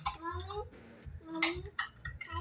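A young child plays with toy pots and pans, giving a few light metallic clinks and knocks between bursts of close talking.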